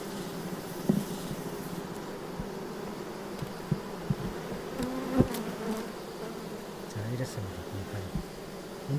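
Honeybees buzzing at a hive during beekeeping, a steady low insect drone throughout with scattered knocks and someone talking over it at moderate distance.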